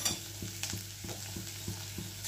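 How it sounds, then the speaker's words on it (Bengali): Onion and ginger sizzle steadily in a pan while a utensil scrapes and stirs in a quick, regular rhythm of strokes, close and moderately loud with no talking. "ভালো করে পেঁয়াজটা একটু ভাজা করে নিতে হবে, পেঁয়াজ আর আদাটা"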